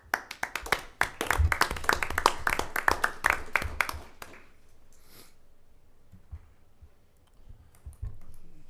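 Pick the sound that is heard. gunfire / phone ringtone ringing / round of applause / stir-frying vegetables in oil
round of applause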